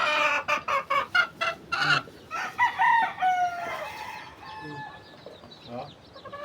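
Chickens cluck in a stream of sharp, repeated calls on a small semi-farm flock, with a rooster crowing in drawn-out, rising calls, all close and fairly loud.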